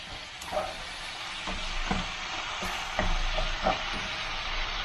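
Spinach and feta stir-fry in a hot pan, a soft continuous sizzle with several light stirring knocks and scrapes spaced through it, fairly quiet and without talk.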